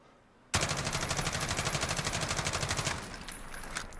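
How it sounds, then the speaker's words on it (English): An H&K G36 assault rifle fires full auto in Call of Duty Modern Warfare, a loud, rapid, unbroken burst of evenly spaced shots lasting about two and a half seconds, then a quieter tail of clicks and echo. "we're gonna let this rip and not control the recoil"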